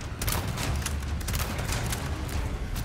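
A grenade blast in Resident Evil 4 Remake followed by a dense, continuous rumble of booms and crackling gunfire-like bursts, loud and sustained throughout with no break.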